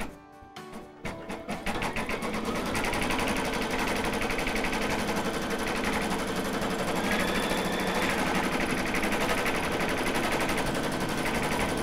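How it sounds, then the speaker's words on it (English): An embroidery machine stitches the placement outline of a rose for an appliqué design, a fast steady mechanical chatter that starts after a few brief knocks and runs loud and continuous with no talk. "it's now going to stitch down my next placement stitch"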